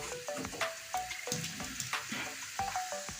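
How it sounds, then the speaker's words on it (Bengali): Water goes into a hot pan of boal fish-head and cucumber curry, setting off a close, steady frying sizzle with light scraping and clinks from stirring, and no talk. "এখন আমি জল দিয়ে দিচ্ছি এই পর্যায়ে"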